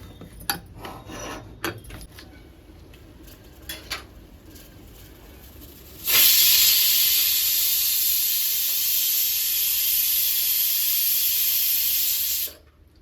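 A pressure cooker of fenugreek dal on a gas stove gives a long, loud, steady hissing whistle of steam for about six seconds, after a stretch of quieter clinks and rattles; no voices.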